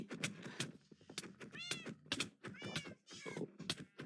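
A cat meows several times within a video game, its short rising-and-falling cries popping out over busy game noise, thumps and a voice talking throughout.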